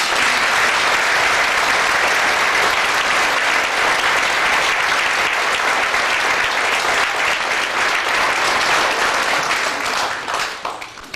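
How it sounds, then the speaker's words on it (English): A large audience applauds the youngsters at an air crashes memorial plaque ceremony at the Berwyn Centre, a dense, steady roar of clapping that holds for about ten seconds before tapering off at the end. "Give them a clap, please."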